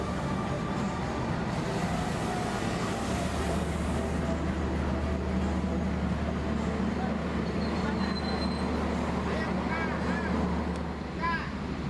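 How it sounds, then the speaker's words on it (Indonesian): A train pulling into Cirebon station, heard from the platform or a stopped train: a steady low rumble and rolling wheel noise, with thin wheel squeals near the end and voices underneath. "Ini ada kereta yang mau masuk teman-teman."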